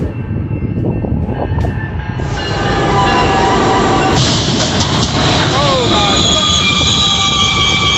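A train brakes hard and its wheels squeal in high, sustained screeches over a loud rumbling roll, the squealing growing more intense through the clip as voices shout faintly beneath.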